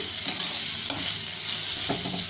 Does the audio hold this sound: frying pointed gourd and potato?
yes